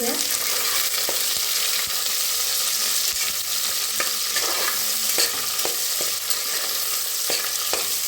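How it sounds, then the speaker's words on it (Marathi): Onion and curry leaves frying in a pan, a loud, close, continuous crackling sizzle with regular sharp scraping strokes of a spatula stirring, no voices. "ह्याच्यातच टाकूया कांदा कढीपत्ता भाजून"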